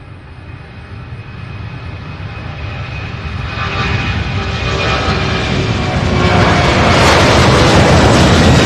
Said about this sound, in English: I hear the engine spooling up, so here she comes.